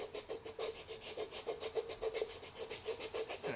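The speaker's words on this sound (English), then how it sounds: "I just keep sanding and sanding and sanding." Rhythmic back-and-forth sanding strokes on styrene plastic, steady and close, repeating evenly with no voices.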